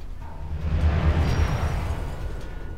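A deep, rumbling blast in the space game X4 Foundations, a loud low boom that swells and then rolls off over a couple of seconds with no voices.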